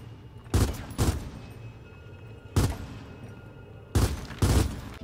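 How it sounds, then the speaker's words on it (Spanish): Lancer assault rifle bursts fired in Gears of War 4, heard as three separate loud volleys of rapid automatic fire with quiet gaps between them. "te sugiero ocupar la Lancer para esto, ya que lo puedes hacer con pequeñas ráfagas"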